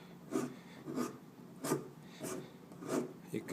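A somewhat dull chisel scrapes and carves plaster in five or six short rasping strokes at a steady rhythm, close and fairly quiet.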